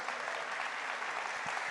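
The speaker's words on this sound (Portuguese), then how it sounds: "Salva de palmas." A crowd welcomes a guest on stage with a dense, even burst of applause. The many hands clap steadily and at moderate volume throughout, with no voices standing out.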